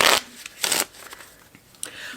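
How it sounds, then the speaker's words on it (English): Playing cards shuffled up close, two strong riffling bursts followed by a lighter flick near the end, with no voices. "One last shuffle for good measure."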